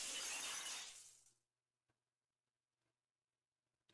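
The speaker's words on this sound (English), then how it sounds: "Shattered with a loud crash when they hit the floor." Glass shatters with a loud crash on a floor, a bright burst of breaking fragments that fades within about a second and a half, followed by near silence with a few faint tinkles.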